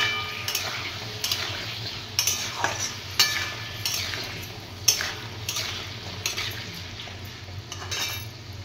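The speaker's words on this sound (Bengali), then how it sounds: "পেঁপে আলুটা দিয়ে ভালো করে ভাজা হবে।" Papaya and potato pieces frying in a wok, with a soft continuous sizzle under repeated close metallic scrapes and clinks from a spatula stirring at an uneven rhythm.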